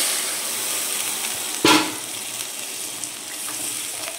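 Water poured into a pan of sautéed potol and prawn masala, a loud continuous frying hiss broken by a sudden sharp burst of splashing sizzle, then settling back to a steady simmering fizz.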